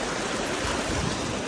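Water rushing down a hillside stream in India where off-road vehicles must cross, a steady broadband wash of flowing water that stays close and even throughout with no talk.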